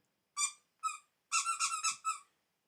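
A dog toy's squeaker gives six sharp, high squeaks close by: two single squeezes, then a quick run of four, with nothing else around them.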